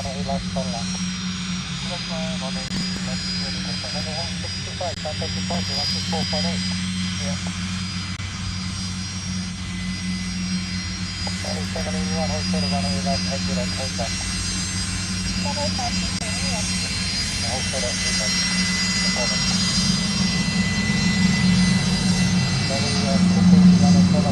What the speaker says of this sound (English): So this is a plane chock full of weather gathering